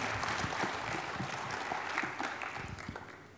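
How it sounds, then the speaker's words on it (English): An audience at a technical conference talk on a Python static analysis framework claps warmly, a dense steady round of applause indoors that gradually fades slightly toward the end. "let's give a warm round of applause for Joey."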